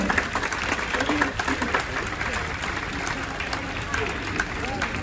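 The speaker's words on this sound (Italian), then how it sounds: "applauso al nostro artista di questo pomeriggio" An audience claps for a singer at a Neapolitan lyric show aboard an MSC cruise ship, steady moderate applause with murmuring voices mixed in throughout.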